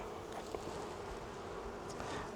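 Worker bees buzzing at an open beehive, a dense continuous drone of many wings close by with a few brighter passes as individual bees fly near.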